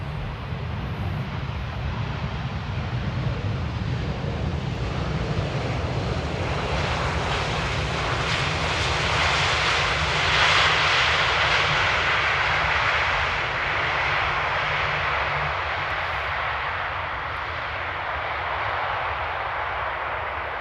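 Airliner arriving in rain at Amsterdam Airport, a loud steady jet roar that swells in the middle and holds on, broad and continuous with no voices.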